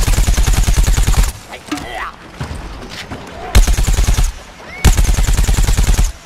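Rapid automatic gunfire from the Plants vs Zombies Garden Warfare video game crackles in three loud, sustained bursts, separated by quieter game sounds.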